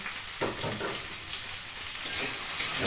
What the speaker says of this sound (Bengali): আলু আর পেঁয়াজটা ভালো করে ভাজা হয়ে গেছে